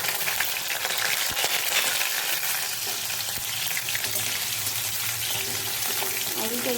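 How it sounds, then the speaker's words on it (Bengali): Cut potatoes dropped into hot oil tempered with spices, sizzling and crackling in a steady broadband hiss with a few sharp pops, close and moderately loud, with no voices. "আমি এখানে কেটে রাখা আলুগুলো দিয়ে দিলাম"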